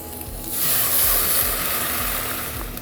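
Garlic in a hot pan erupts into a loud, bright hiss and sizzle as cold apple cider vinegar hits it, the steamy roar swelling after half a second and holding steady, with no voices.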